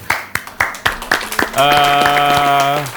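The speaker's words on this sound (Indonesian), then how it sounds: "Tepuk tangan boleh?" A small audience gives a handful of sharp, separate handclaps in a podcast studio, followed by a loud, sustained musical tone.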